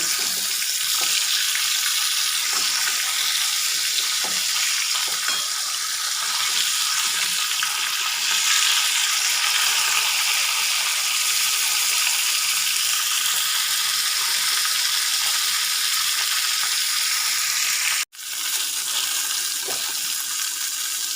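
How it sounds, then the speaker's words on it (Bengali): Tilapia fish heads fry in oil, a dense continuous sizzling hiss that stays loud and even, broken by one brief drop near the end, with no voices. "এভাবে এক এক করে সব মাছের মুড়োগুলো ভেজে নেব।"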